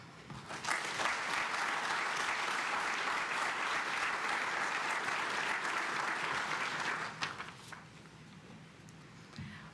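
Audience applause at a spring 2024 Air Force ROTC commissioning ceremony, steady clapping from a seated crowd for about seven seconds that then thins out to a few scattered claps, fairly faint and distant.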